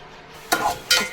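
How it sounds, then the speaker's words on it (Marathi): Chopped onion and curry leaves hit hot oil in a pot for Malvani chicken, setting off two sharp, close sizzling bursts in quick succession. "तेल टाकलंय आहे पातेल्यामध्ये तर कांदा टाकते थोडा कढीपत्ता"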